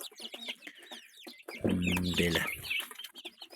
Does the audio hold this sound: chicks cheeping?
yes